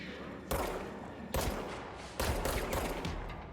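Gunfire in the video game Control, three loud bursts of shots that each hit abruptly and then trail into a sustained rumble, with no talk over them.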